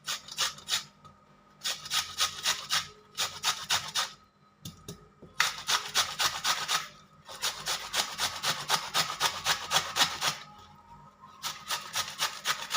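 Peeled mangoes are grated on a large hand grater in close, rhythmic bursts of wet rasping strokes, pausing briefly between runs, with no talking over them.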